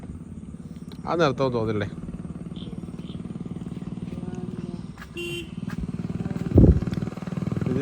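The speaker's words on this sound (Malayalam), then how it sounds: "ഒരു ബുള്ളറ്റ് വരുന്നുണ്ട് അവിടുന്ന്" A Royal Enfield Bullet motorcycle goes by with a steady, throbbing engine drone under the whole stretch, with people talking over it and a louder burst near the end.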